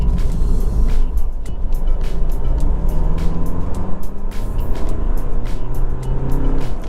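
Alfa Romeo Giulia Lusso JTD 180 diesel sedan with eight-speed automatic, heard from the cabin as the engine pulls under acceleration, a steady loud drone with rising tones as it gains speed.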